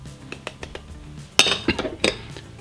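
Dry ingredients such as vital wheat gluten, cornstarch and salt go into a bowl for meatless salami, with a string of sharp metal-on-dish clinks and taps, sparse at first and then a louder cluster of knocks.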